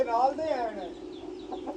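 Chicks and aseel chickens clucking and peeping close by, short chirpy calls repeating under a person talking.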